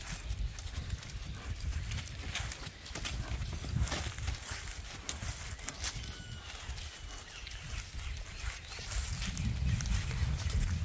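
A stocky pinto horse with a saddle walks on loose rein through a rural paddock, its hooves clip-clopping in a steady, unhurried rhythm at close range over faint outdoor background noise.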